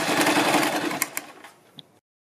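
A sewing machine stitches a seam on a kurti, a close, rapid mechanical whirr running steadily before slowing into a few separate clicks and stopping near the end.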